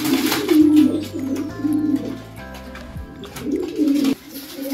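Pigeons in a cage give a few low, murmuring coos, rising and falling in short bursts at close range, with faint background hum and clatter.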